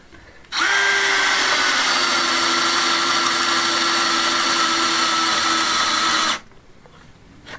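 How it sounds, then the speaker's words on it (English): A power drill bores a 19mm hole through timber near stonework in a courtyard, one loud steady whine lasting about six seconds with a clean start and stop. "I'm going to put a 19mm hole through the timber"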